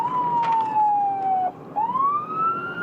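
A loud wailing emergency siren sweeps down in pitch, briefly cuts out, then rises again, close by and alone.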